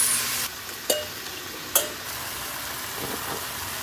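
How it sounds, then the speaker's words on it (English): Tortillas frying in avocado oil give a steady, moderate sizzle with a few sharp clinks and brief clatters from utensils. No one speaks. "Then I'm gonna use avocado oil to fry my tortillas."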